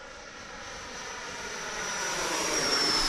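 An FMS F-86 radio-controlled model jet flies past on its maiden flight, its ducted-fan whine steady and rising in loudness as it nears, with no talk over it.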